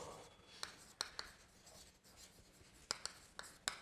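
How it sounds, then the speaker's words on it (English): Chalk or marker writing on a board during a physics lecture, heard as quiet scratchy strokes with sharp taps as it meets the surface, in bursts separated by short pauses, with no speech. "let me write the prerequisite here"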